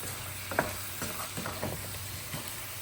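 Soft, quiet stirring and light patter as mutton is mixed with chili powder, turmeric and salt for a Rajasthani royal-style dish, a low continuous scraping texture with small scattered clicks.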